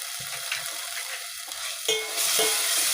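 Turmeric and garam masala sizzle in a pan over a low flame as misal is prepared, with soft scraping stirs and a hiss that grows brighter toward the end; no one speaks.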